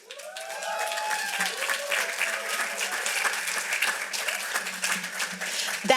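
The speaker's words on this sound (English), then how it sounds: "I didn't tell you to clap, but you knew what to do" An indoor audience at a fair housing event applauds, steady clapping that swells in and holds with some voices mixed in.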